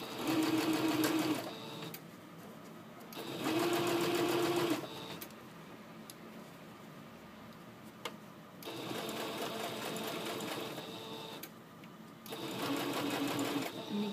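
A sewing machine stitches around the outside of fabric bag pieces close to the cording, running in several bursts of fast mechanical whirring separated by quieter pauses.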